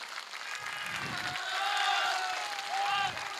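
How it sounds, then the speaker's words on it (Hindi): Audience applause greets a candidate at a Haryana political rally: a soft, distant wash of clapping and crowd noise swells and fades under a voice. "सुभाष पूनिया लोक लाडले उम्मीदवार आए हैं, एक बार जोरदार ताली बजा करके स्वागत करें।"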